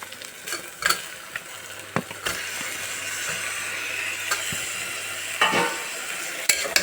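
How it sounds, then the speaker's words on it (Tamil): Chicken frying in oil for biryani while being stirred, a continuous close sizzle broken by sharp scrapes and clanks of the spoon against the pot at irregular intervals. "இந்த மாதிரி வந்தோடனே நம்ம சிக்கன் போட்டுக்கலாம்"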